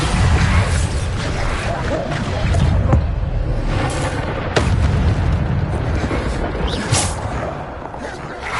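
Bombarda blasting spell cast in the Hogwarts Legacy video game, a dense stretch of booming explosive blasts and rumbling impacts, loud and continuous with sharp cracks at intervals.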